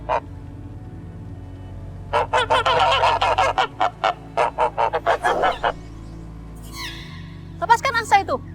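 Several geese honk loudly in a dense cluster of repeated calls, then a few higher calls follow near the end. A low background hum runs underneath throughout.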